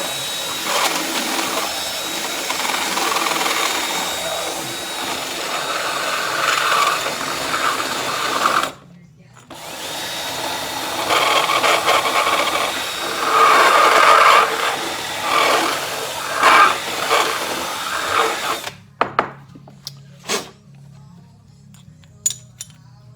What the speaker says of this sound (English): I'm gonna Dremel some more.